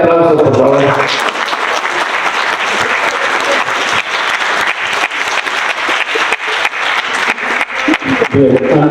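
Loud, dense applause from a conference audience welcoming a doctor to the lectern, sustained for the whole stretch with steady rapid clapping and a slight swell near the end.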